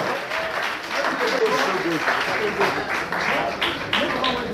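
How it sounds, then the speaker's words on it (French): A congregation at a church consecration ceremony applauds newly consecrated pastors, with dense sustained clapping from a crowd and voices mixed in. "Put your hands together for them."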